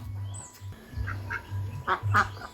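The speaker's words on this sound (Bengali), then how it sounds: "আর এই যে বড় হাঁসগুলি এরা ডিম পাড়ায় রোজ চারটে চারটে করে ডিম পাড়ে" Big egg-laying ducks in a rural farmyard in the morning give a handful of short, nasal quacks in quick succession, fairly close, over a steady low background hum.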